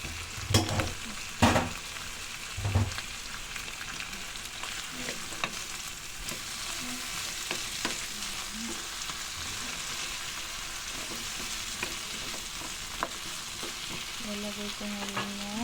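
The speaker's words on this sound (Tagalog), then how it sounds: "igigisa ko na rin tong mga gulay" Vegetables including okra sautéing in a pan with an even, close sizzle throughout, joined by a few knocks and scrapes of stirring at the start and faint clinks later on.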